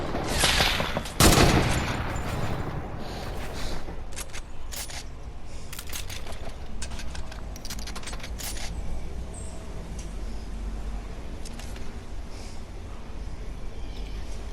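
Video game gunfire: a burst of loud shots near the start, then scattered sharp reports and bursts over steady background noise.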